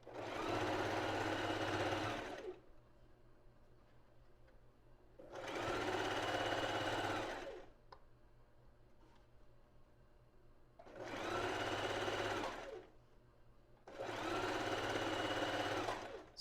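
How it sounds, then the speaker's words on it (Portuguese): A domestic sewing machine stitches lingerie fabric in four bursts of steady, whirring motor hum a few seconds each, with quiet pauses between them, close and clear with no talking. "no lugar das emendas de tecido, fica meio grosso, pode ser que a máquina fique patinando sem querer puxar"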